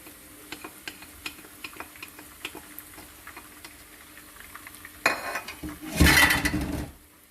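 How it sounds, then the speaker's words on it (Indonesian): Beaten egg goes into a pan with browning Chinese cabbage stir-fry, faint ticks and scrapes at first, then a louder burst of sizzling and stirring near the end. "Lalu kita masukkan telur yang sudah diaduk."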